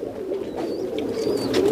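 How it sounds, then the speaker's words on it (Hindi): Pigeons coo at a crowded pigeon loft, low soft rolling calls close by, with faint higher chirps and tweets from other birds in the background. "यहाँ भी कबूतर बहुत है भाई"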